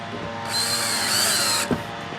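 A power drill whirs steadily for about a second, driving a screw into an RV fresh water tank mounting, then stops with a brief clunk, close and loud.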